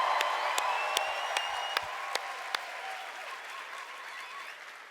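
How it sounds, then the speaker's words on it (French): A church congregation gives a warm ovation, with sustained applause and a few sharp, near claps standing out over the crowd, gradually thinning toward the end. "Est-ce qu'on peut lui donner une ovation ce matin,"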